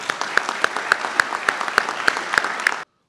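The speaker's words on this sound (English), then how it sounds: "Please join me in applauding all that they did." An audience at a town commemoration applauds in unison, the crowd clapping in a steady rhythmic beat of sharp, evenly spaced claps before stopping abruptly.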